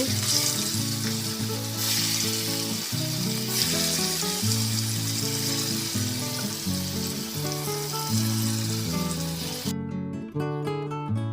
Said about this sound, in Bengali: এবার মাছগুলো ছেড়ে দিলাম, তেলে ফ্রাই করে নেব।